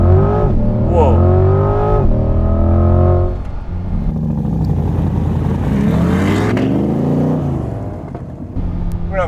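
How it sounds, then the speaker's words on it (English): A C8 Corvette Z51 with the LT2 V8 and custom carbon parts accelerates hard on takeoff, its engine note rising and shifting up through gears, heard from inside the car with people talking over it. "And you want me to do a takeoff?"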